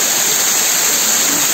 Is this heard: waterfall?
yes